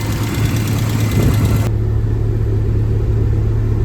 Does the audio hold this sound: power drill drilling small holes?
no